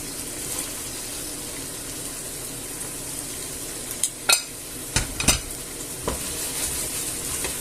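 Meatballs are stirred into a stew sauce in a pot over steady bubbling and sizzling, with a few sharp spoon knocks and scrapes against the pot midway, close and without talk.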